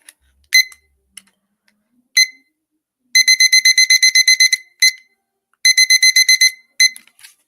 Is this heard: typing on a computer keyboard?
no